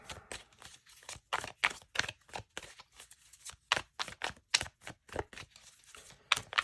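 Tarot cards being shuffled by hand, a quiet series of quick papery riffles and taps in irregular bursts, close up with short pauses between them.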